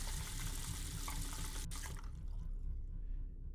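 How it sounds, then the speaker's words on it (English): Water runs from a faucet in the video game Neofeud with a steady, hissing rush that fades out toward the end. "Damn, it seems the water is draining out through the drain."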